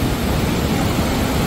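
Loud rushing waterfall near Kedarnath in the mountains, a dense, steady roar of falling water filling the whole short stretch with no other sounds.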